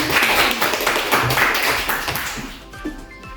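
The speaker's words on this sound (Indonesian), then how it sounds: "tepuk tangan dulu untuk Laras" Students in a classroom clap for a classmate, a close, busy patter of hands that tails off after a couple of seconds into quieter room noise.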